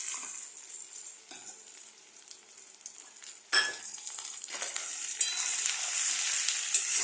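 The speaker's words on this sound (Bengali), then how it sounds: "এবারে পেঁয়াজটা আমি ভালো করে লাল করে ভেজে নেব।" Chopped onions sizzle in a pan for a home-style egg curry, with a steady close fry, occasional clinks and stirring scrapes, and the sizzle swelling louder as the onions are moved around.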